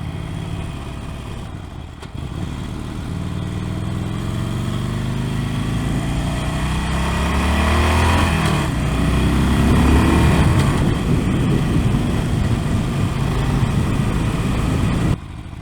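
A stock Harley-Davidson Sportster Forty-Eight with standard pipes runs while riding, its steady engine drone rising in pitch as it climbs through the revs, loud and close, with wind noise and no talking.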